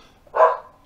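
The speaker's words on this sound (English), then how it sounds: "whilst the dogs are barking" A single dog bark, short and fairly loud, rises out of quiet room noise in a home where several dogs are barking.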